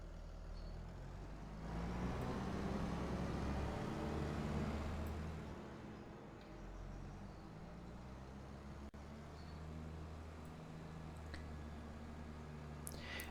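Tractor engine in Farming Simulator 25 on a village map, a steady low drone that swells louder for a few seconds and then settles back, running alone without talk.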